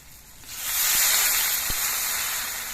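Broth pours into hot oil with masala and potatoes for a silver carp curry and sets off a sudden loud hiss that swells and then holds as a steady, close sizzle, with no speech.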